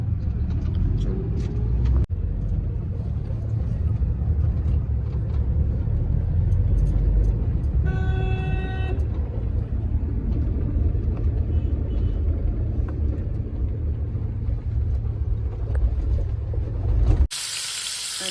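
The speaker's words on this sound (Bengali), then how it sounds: "গাড়িতে উঠে পড়লাম এবার যাচ্ছি অফিসের দিকে" Steady low car engine rumble and road noise from inside a car heading to the office, continuous and fairly loud, with a brief electronic tone in the middle and a sharp change at the end.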